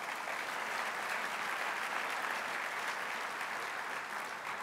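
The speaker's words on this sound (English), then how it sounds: "you should give yourself a round of applause for that" Sustained applause from an audience, a dense wash of clapping at steady volume throughout, with no voices standing out.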